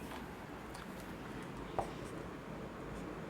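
A pen or chalk scratches faintly across a writing surface during a maths lesson, soft continuous strokes with one small tap, quiet and close.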